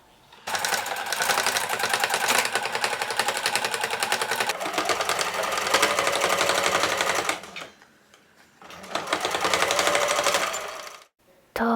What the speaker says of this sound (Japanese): 前見返しと後ろ見返しの肩を縫おう。